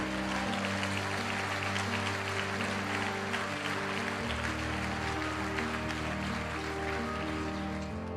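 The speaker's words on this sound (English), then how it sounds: "Give yourselves a round of applause." Applause from a motivational-speech audience rolls steadily for about eight seconds, a dense, even patter layered over sustained musical tones.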